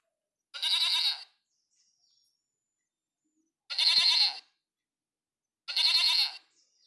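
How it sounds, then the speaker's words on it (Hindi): A goat calls out for its kid with three loud, clear bleats spaced a couple of seconds apart, each cry standing alone against silence. "बकरी अपने मेमने को मिमिया मिमिया कर पुकारती है।"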